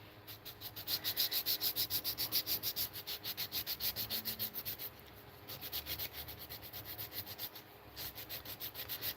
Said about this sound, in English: might as well go live and sand live